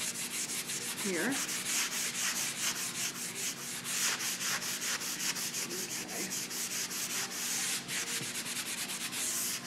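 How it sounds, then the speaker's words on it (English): Light sanding of painted wood furniture by hand: close, steady scratchy rubbing strokes that repeat continuously. "I'm going to take it, I'm going to give it a light sanding"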